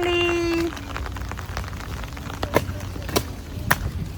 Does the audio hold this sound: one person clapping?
no